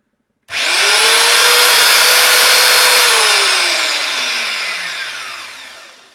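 A belt sander, used to restore a rusty, blunt knife, starts up abruptly and runs loudly with a high whine and gritty abrasive hiss, its pitch sagging slowly toward the end.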